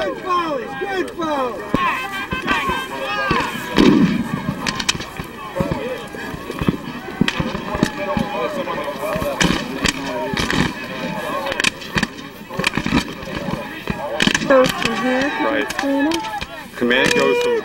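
Brigade musket volley fire crackles at a Gettysburg battle reenactment, loud overlapping shots and bursts spread across a long stretch with shouted commands and voices throughout.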